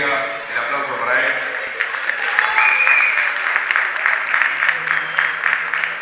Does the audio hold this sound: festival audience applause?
yes